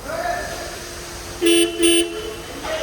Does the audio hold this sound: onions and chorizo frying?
no